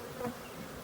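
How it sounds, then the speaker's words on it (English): Honeybees buzz faintly after being shaken down from hive frames while a hive is split, a brief steady hum with no voices. "Now that we've shaken all the bees down"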